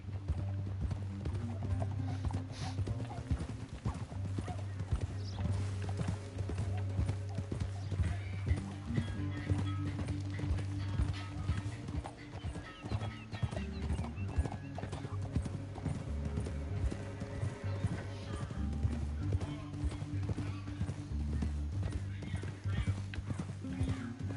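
Steady rhythmic clip-clop of galloping horse hooves in Red Dead Redemption 2 runs throughout, with an occasional horse whinny and a low rumbling music bed underneath.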